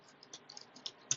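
Light, rapid keystrokes on a computer keyboard as a router command is entered, an uneven patter of soft clicks with a few sharper taps, quiet and close.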